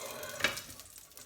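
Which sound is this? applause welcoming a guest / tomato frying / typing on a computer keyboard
tomato frying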